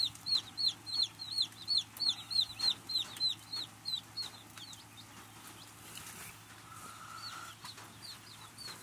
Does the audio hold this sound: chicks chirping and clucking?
yes